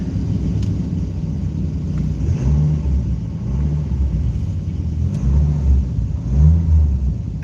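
A 1995 Dodge Viper engine revving shortly after a cold start following a winter of sitting, loud close rumbling idle swelling into several repeated revs that fall back slowly, with no talk over it.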